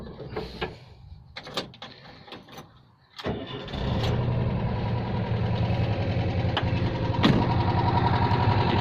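A 1977 VW Transporter Kombi's engine cranks over after a few faint knocks, catches around three seconds in and settles into a loud, steady idle hum close by with no talk.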